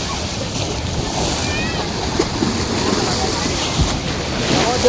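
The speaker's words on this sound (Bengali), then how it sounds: "পাশেই সমুদ্রে যে সমুদ্র ঢেউ বুঝতেই পারছেন কতটা বিশাল আছে" Big waves at Dwarka, where the Gomti River meets the Arabian Sea, make a continuous wash of surf with heavy wind buffeting the microphone throughout.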